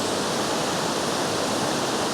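Middle Creek Falls pours in a steady, dense rush of falling water, a continuous broadband roar with no pauses.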